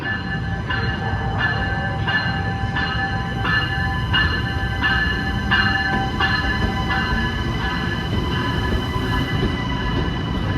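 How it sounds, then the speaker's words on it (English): An Amtrak Acela high-speed train rushes past nearby with a steady roar and a regular rhythmic clatter of wheels over rail joints, continuous and loud throughout, no voices. "There goes the most beautiful train in America."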